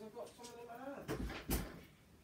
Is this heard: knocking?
yes